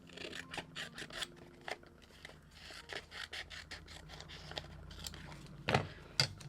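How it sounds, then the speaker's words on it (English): Scissors trimming paper stickers down to size on a small cutting mat, giving a series of quiet crisp snips and light rustling scrapes at close range. "So I'm just going to trim these down so that they actually fit on my little cutting mat"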